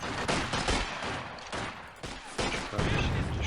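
Gunfire in the World War II strategy game Company of Heroes 2: dense bursts of rifle and machine-gun fire crackle in rapid succession, loud and continuous, with overlapping volleys throughout.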